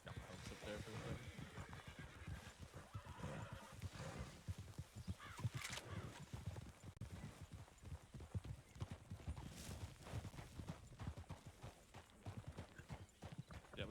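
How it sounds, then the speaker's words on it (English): Hooves of wild horses clip-clop steadily in a video game, a fast continuous trotting rhythm at moderate level, with a voice talking intermittently over it. "Those are wild horses."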